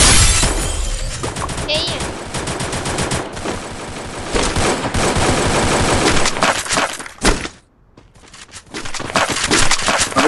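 Shotgun gunfire in the battle royale game Free Fire: loud, rapid bursts of shots with sharp cracks fire almost nonstop, break off briefly into near silence, then resume just as hard.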